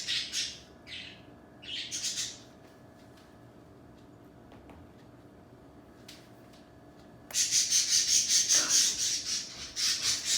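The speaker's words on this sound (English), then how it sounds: "I had to cover up Ralph, my bird, because he would not stop squawking" A pet bird squawks indoors in loud harsh bursts, two early clusters followed by a long continuous stretch of rapid rasping calls near the end, close to the microphone.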